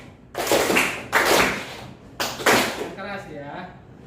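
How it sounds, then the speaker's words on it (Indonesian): A classroom of students clapping in unison, several sharp group claps spaced about a second apart, with a teacher's voice talking over the end. "tepuk tangan sekali kalau Bapak lempar"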